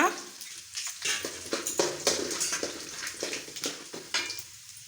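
Dried red chilies sizzle in hot oil for lemon rice, with steady frying crackle and repeated scrapes and clinks of a spoon stirring in the pan, close and fairly loud.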